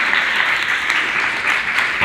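Hearty applause from a crowd welcoming a guest at a computer center opening ceremony, a continuous bright clatter of hands that is loud and near throughout.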